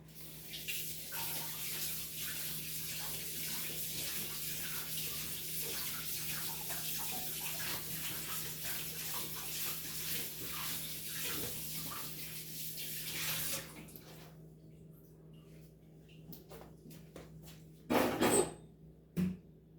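A tawa griddle pan being washed with salt under running water, a steady loud rush from the tap with faint scrubbing for most of the stretch, then the flow stops and a brief clatter of the pan follows.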